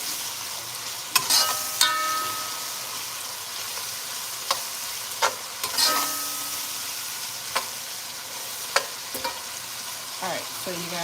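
Aromatics and carrots cooking in a pot for stew fish, with a steady sizzle and frying hiss under occasional scrapes and clinks of a stirring utensil against the pot.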